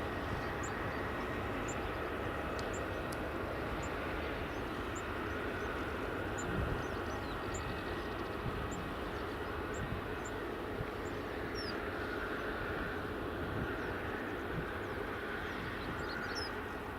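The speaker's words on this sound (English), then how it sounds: "So the EasyJet's going for an intersection takeoff from Bravo." An EasyJet airliner takes off at Edinburgh Airport, a steady, distant engine roar holding throughout under faint birdsong chirps.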